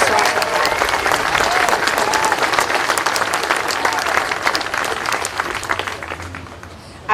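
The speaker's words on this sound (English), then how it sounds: "Let's give one more round of applause for Arnie Briggs." An audience at a Memorial Day ceremony honoring war veterans applauds in a loud, sustained burst of dense clapping with some crowd noise, easing slightly toward the end.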